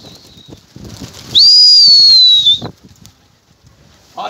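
A flock of pigeons takes off with soft bursts of wing flapping, cut by a loud, sustained human whistle lasting about a second, and then a few more flutters fade out.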